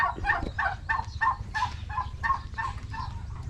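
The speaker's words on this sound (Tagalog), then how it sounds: "ayan may mga manok din po tayo dyan oh" Rhode Island Red chickens cluck in a quick series of short, repeated calls nearby, over a low steady rumble.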